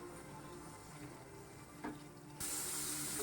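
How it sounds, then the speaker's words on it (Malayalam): Gentle sizzling of fried sardines being stirred in a pan for pickle, with a soft scrape of stirring, then the frying hiss swells louder near the end; close by, no voices. "ഇനി നമുക്ക് ഇതൊന്ന് ഇളക്കാം."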